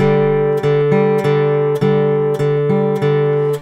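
Plucked, ringing guitar notes repeat in an interlocking uneven pattern, two pulses set against three, played cleanly with no voices.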